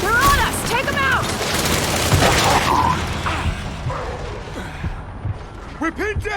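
Turret gunfire in the video game Gears 5, dense rapid bursts and mechanical clatter filling most of the moment, with a voice shouting over the shooting before it thins out near the end.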